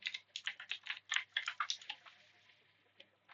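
Rapid bursts of keystrokes on a computer keyboard as a password is entered for root access, a quick uneven run of clicks for about two seconds, then a single tap and a sharp final key press.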